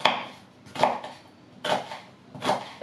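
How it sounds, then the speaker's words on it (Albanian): A knife finely chopping onion for guacamole, with four distinct chopping bursts at an uneven pace, close and moderately loud, no talking. "Qepën do ta grij sa më imët që të mundemi."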